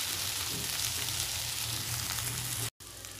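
Okra sizzling steadily in a pan over low heat, a dense continuous crackle close by that cuts out abruptly near the end and resumes slightly quieter.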